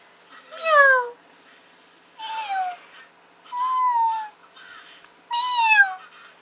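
A domestic cat meows four times in a quiet room, each call clear and close, spaced about a second or more apart with silence in between.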